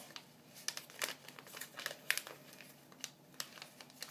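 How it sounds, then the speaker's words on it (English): Paper crinkles and rustles up close as an origami turkey is folded in half, with soft scattered creases and crisp little snaps and no voice over them. "You do a mountain fold down the long way of the middle, and you fold the whole thing in half."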